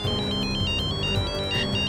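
A mobile phone rings with an incoming call, playing a bright, repeating electronic ringtone melody that sounds steadily and alone over a soft musical backdrop.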